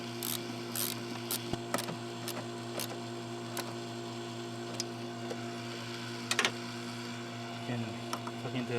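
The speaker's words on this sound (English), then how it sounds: "Tighten the hose clamp." A ratchet clicks in short irregular bursts while tightening a hose clamp on a Volvo S60 T5 AC condenser, close and fairly quiet over a steady hum in a garage.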